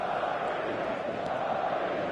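Simulated stadium crowd in the football video game eFootball, a continuous dense roar of chanting fans holding steady at moderate loudness throughout.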